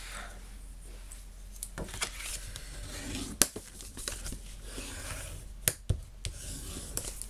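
Paper sheet being creased into folds for a box made from a single 30 x 30 cm sheet, with soft rubbing and crinkling and a few sharp creasing snaps, close and quiet, no talk.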